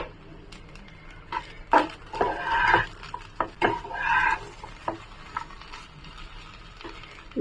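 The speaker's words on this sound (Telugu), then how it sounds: "ఇది బాగా కలుపుకోవాలి." Carrot rice being stirred in a pan with fried cashews and coriander, a spoon scraping and clinking against the metal in irregular bursts, close and fairly loud.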